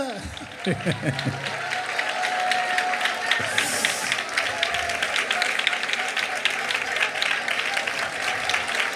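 Congregation clapping during a sermon on resurrection power, dense steady applause filling the room beneath a preacher's voice and crowd noise.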